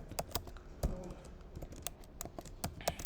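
Close, quiet clicking of a computer keyboard as code is typed, a steady irregular patter of keystrokes with no talking.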